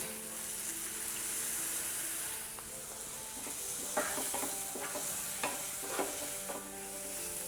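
Ground masala paste poured into a pan of frying tomatoes and onions for egg curry, bringing a steady close sizzle and hiss, with a few clinks and scrapes of stirring toward the end and no talking.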